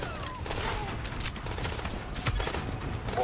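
Gunfire in the shooter Tom Clancy's The Division, a steady run of sharp shots and crackling bursts at moderate distance over a busy, rumbling background.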